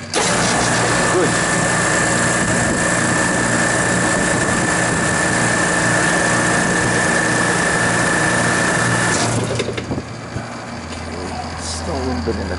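A refrigeration compressor on a system with low suction pressure runs steadily with a loud, constant hum and whine, then winds down near the end as it pumps down.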